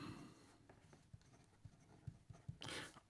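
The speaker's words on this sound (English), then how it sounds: "Here we go with the writing sample for the Visconti" A broad stainless steel nib of a Visconti Opera Gold fountain pen scratches across paper, with short strokes and soft taps in an irregular rhythm, close and quiet.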